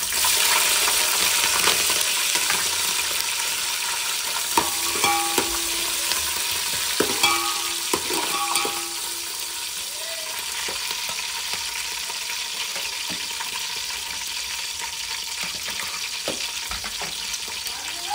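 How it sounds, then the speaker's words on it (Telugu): Whole spices and green chilies fry in heated oil, a soft continuous sizzle with a few stirring clinks near the start that settles into a quieter hiss. "కొంచెం బగారా సామాన్ వేసుకొని దాంట్లోకి కొన్ని పచ్చిమిర్చి,"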